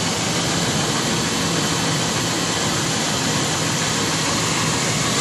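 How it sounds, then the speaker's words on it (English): A 1998 Ford Expedition's engine runs steadily at idle, a constant broadband rumble and hum that stays even and fairly loud throughout, with no voices. "Just letting you hear the engine."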